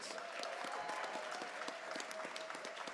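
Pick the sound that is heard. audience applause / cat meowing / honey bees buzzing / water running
audience applause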